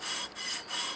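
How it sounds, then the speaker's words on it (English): Sandpaper of 320 grit rubbed over a metal part on a surface plate, heard as three close, steady back-and-forth scraping strokes with brief pauses between them, alone without talk. "over here at the surface plate, I got some 320 sandpaper. I'm just gonna give this a little"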